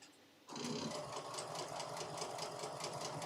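A sewing machine starts up and runs steadily and loudly, stitching a Christmas table runner, its fast continuous whir holding an even pace with no talk over it.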